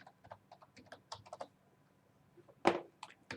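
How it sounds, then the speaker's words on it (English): Close, crisp keystrokes on a computer keyboard tap out in short bursts with brief pauses, ending in a louder key press or two, in a quiet room. "So just type this now."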